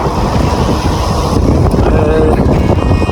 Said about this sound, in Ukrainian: Вітер такий, що затримує прямо на місці.